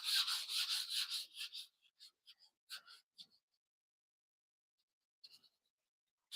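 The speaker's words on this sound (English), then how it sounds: "right now we're just sanding filler primer" Filler primer on a car hood is sanded by hand in quick back-and-forth rasping strokes. The strokes come in a burst at first, then fall to a few isolated scrapes with pauses between them.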